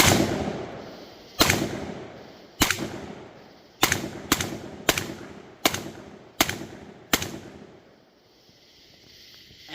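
A Benelli-clone shotgun built from Benelli parts fires eight sharp, loud shots in a steady semi-automatic rhythm, each blast echoing briefly before the next, followed by quiet.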